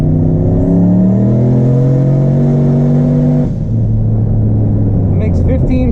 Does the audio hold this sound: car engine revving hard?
yes